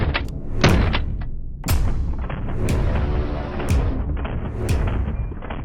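A semi-automatic Genesis Arms Gen 12 shotgun fires five loud, sharp blasts outdoors, roughly one per second, each followed by a rolling echo that fades before the next shot.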